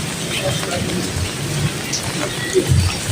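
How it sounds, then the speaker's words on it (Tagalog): Steady rain falls outside a roadside tapsilog eatery, a continuous close hiss of drops with a few louder bumps near the end and no talking. "Yan o, maulan."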